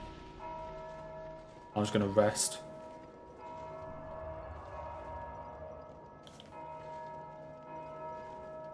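A bell struck in the video game Dark Souls 2 rings out in a short burst of bright clangs near the middle, over a steady game soundtrack, with a person talking briefly.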